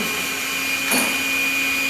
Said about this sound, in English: Little vacuum, huh?